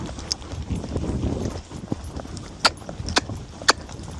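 A 14-year-old Kentucky Mountain gelding, a gaited horse, moves along with steady clip-clopping hooves, several sharp, close hoof strikes standing out over a low, continuous rumble of movement outdoors.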